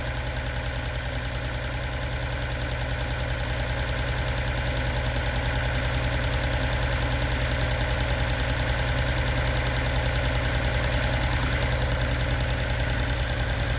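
A turbocharged Datsun engine idles steadily and close by, a dense, even mechanical drone with a fine ticking rhythm that holds constant for the whole stretch with no speech.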